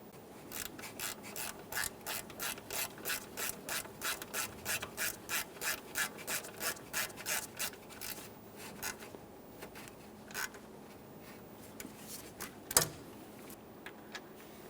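Ratchet snugging an alternator mounting bolt on a Toyota Sienna, a close run of rapid, evenly spaced rasping clicks that slows into scattered strokes, followed by a sharp metallic knock near the end.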